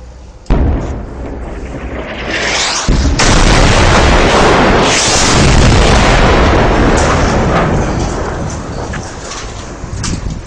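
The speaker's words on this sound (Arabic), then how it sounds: "قصف عنيف جدا برجمات الصواريخ" Heavy shelling from rocket launchers in Darayya, Syria: a loud, sustained series of booming explosions and rumbling blasts with sharp onsets, ringing and echoing across the area with no break.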